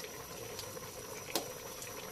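Creamy coconut milk with bottle gourd simmers in a pot, a soft continuous bubbling and popping with an occasional louder bubble burst, heard alone without talking.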